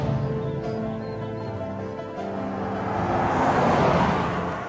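A car driving: a steady engine drone with tonal harmonics that swells into a broader, louder road rush toward the end, continuous and fairly close with no talking.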